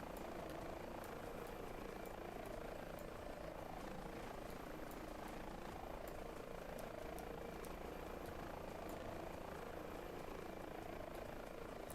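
A helicopter on an emergency medical service flight in a simulator game hums and whirs steadily with a continuous rotor and engine drone, loud and unbroken throughout, with no talking over it.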